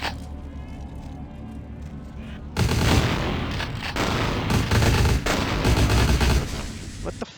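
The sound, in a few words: shotgun fire in video game Vampire: The Masquerade - Bloodlines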